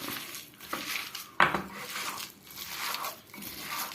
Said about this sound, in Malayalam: ഇതിനി നമുക്ക് നന്നായിട്ട് മിക്സ് ചെയ്യാം